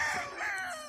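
A brief snatch of a rooster's crow at a game farm in Canlaon, Negros Oriental, a short nasal, sustained call heard close, with no talking.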